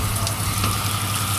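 Water streams steadily from a leak onto a rugged KOSPET Tank T3 smartwatch, making a continuous close splashing rush with a low hum beneath it.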